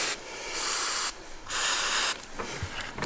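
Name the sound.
spraying from an aerosol can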